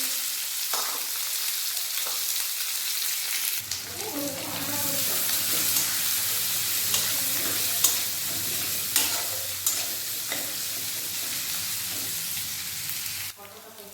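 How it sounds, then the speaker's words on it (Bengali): Chopped onion dropped into hot oil with cumin seeds, dried red chili and bay leaf, bursting into a loud, steady sizzle close by, with occasional stirring clicks, for a Bengali potol chingri dish. "তেল গরম হয়ে গেছে তেলে জিরে ফোড়ন দিয়ে দেবো শুকনো লঙ্কা তেজপাতা দিয়ে দিলাম দিয়ে দিলাম পেঁয়াজ কুচি"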